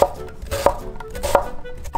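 A knife chops onions on a cutting board in three crisp, evenly spaced strokes, each a close, sharp knock with a brief ring.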